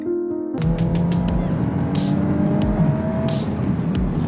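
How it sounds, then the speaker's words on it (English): An eighth-generation Volkswagen Golf R hatchback drives close by, its engine surging and revving loudly after a brief lead-in, with a sustained rough roar and quick sharp bursts, no talking. "Volkswagen Golf R, guys. The quintessential hatchback."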